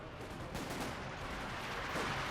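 Gunfire in the World War II strategy game Company of Heroes 2, a dense, continuous crackle of rifle and machine-gun shots with no pauses, loud and close throughout.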